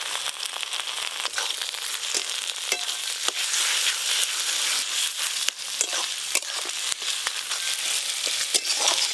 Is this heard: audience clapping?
no